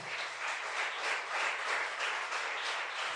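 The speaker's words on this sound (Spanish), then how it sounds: "Dale fuerte el aplauso a Dios" Church congregation applauds during a worship service, a dense, even wash of clapping that swells and eases in soft waves, moderately loud and without voices over it.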